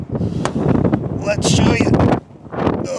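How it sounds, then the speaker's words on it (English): Outdoor gusts buffet the microphone in rough, uneven bursts that dip briefly and then return, mixed with a person talking close by. "It's windy out, that's why that's a problem"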